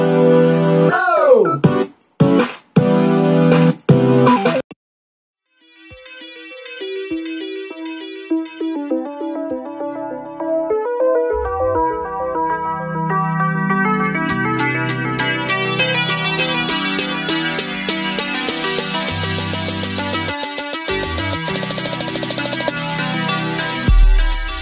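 A future bass electronic track opens with loud, choppy chords that cut to a short silence. It then builds with plucky arpeggiated synths, a deep bass and a rising rhythmic pattern that speeds up, all loud and up front.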